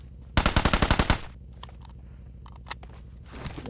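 Rapid automatic gunfire from PUBG Mobile, a video game, rattles off as a loud burst of about nine shots, followed by faint clicks and scattered soft ticks with no talking.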